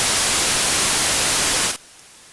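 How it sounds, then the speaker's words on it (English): A loud, steady broadband hiss, added in an audio clipping plugin demo, fills most of the clip and then cuts off abruptly, leaving near silence. "Now let me kill that hiss there."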